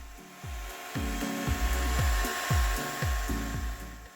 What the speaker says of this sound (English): I'm cutting the PVC pipe to be 28 inches long.